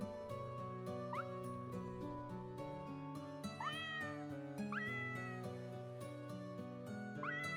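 A kitten meowing several times in high, rising cries, scattered over steady background music, fairly faint and close.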